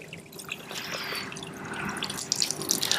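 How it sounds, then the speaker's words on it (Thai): Running water rinses soil and dirt off the roots of a Havortia plant, a steady close splashing and trickling with scattered bright drips, no talking. "เหมือนอาบน้ำนะครับ ง่ายๆ ล้างดิน ล้างสิ่งสกปรก"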